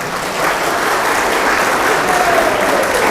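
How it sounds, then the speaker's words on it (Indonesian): Loud, sustained applause from a hall of college students at a campus general lecture, dense and continuous with faint voices mixed in. "Beri tepuk tangan dong"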